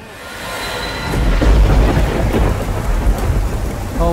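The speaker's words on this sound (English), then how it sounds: "Oh no, it's raining." Steady heavy rain pours down while low thunder rumbles and swells through the middle, loud and close, with no voices, in the Roblox game Brookhaven RP.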